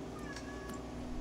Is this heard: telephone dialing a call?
no